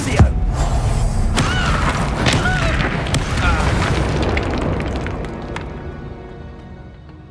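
Incendio fire spell blasting in Hogwarts Legacy: a loud booming burst with crackling roar that sustains and slowly fades over several seconds, with a brief shout at the start.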